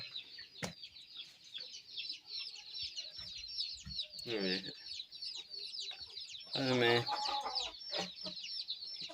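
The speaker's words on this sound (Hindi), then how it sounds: "मुर्गी ते मुर्गा" Aseel hens and a rooster clucking in a cage, a series of close, repeated clucks and squawks with a louder burst near the end, while a voice is briefly heard.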